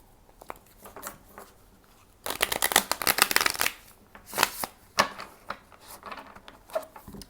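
Cards riffle and shuffle close up, a soft handling sound at first, then a quick flurry of riffling followed by shorter taps and shuffles.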